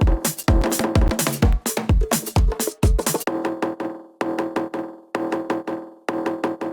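A percussive drum loop of pitched, resonant hits in a steady groove, dense at first, then a sparser repeating pattern of ringing tonal strikes.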